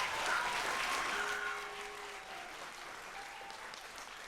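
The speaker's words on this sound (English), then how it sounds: "So let's give them a round of applause" Audience applause for a school advanced band and orchestra concert: dense clapping from a crowd in a hall that swells, then thins and tapers off.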